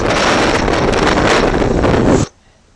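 Strong wind buffets a microphone outdoors in South Australia, a loud continuous roar and rumble that cuts off abruptly near the end, with no talk.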